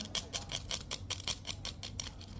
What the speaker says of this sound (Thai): เสียงน้ำแข็ง